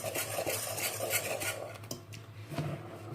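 A utensil stirs dry chocolate cake ingredients in a bowl: steady, close scraping and rubbing that fades briefly, then resumes with a few light taps against the bowl, no voices.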